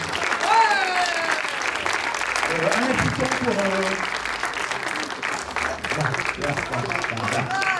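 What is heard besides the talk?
audience applause at a live circus show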